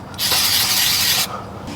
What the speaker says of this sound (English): We're going to do one quick wipe with brake cleaner on this brake surface.